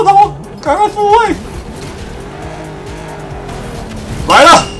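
Cars in the racing game Ace Racing, drifting with engine whine and short tire squeals, loud and up close, heard beside someone speaking.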